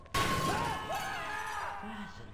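An object in Half-Life is struck and breaks with one sudden sharp crash near the start, followed by ringing, tumbling debris and voices talking underneath.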